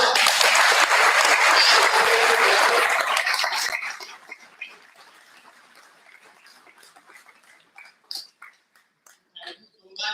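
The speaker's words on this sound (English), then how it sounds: "Give a loud applause." Loud audience applause at a business conclave panel session fills the first four seconds, then fades into scattered individual claps and small noises.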